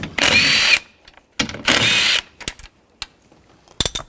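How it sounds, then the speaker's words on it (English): A power tool with a 10mm socket spins nuts off a 2014-2018 GMC Sierra 1500 mirror mount in two loud, close whirring bursts, followed by clicks and clunks of handling. "Using a 10mm socket, take these nuts off."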